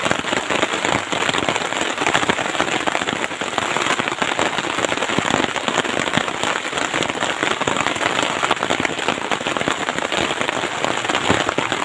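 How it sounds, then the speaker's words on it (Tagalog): Heavy, steady rain pouring down outdoors, a dense continuous hiss of drops hitting surfaces at close range with no letup and no voices. "Yan, umulan ulit mga idol."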